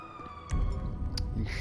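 An ambulance siren wails steadily in the Grand Theft Auto V video game, a sustained tonal whine. Sharp bursts and low rumbling game sounds play over it.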